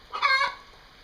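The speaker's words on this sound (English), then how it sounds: "now we're sharing this garage, as you can probably hear, with several chickens in this guy's garage." Several chickens kept in a garage, one short nasal cluck-like call close by and fairly loud, heard on its own.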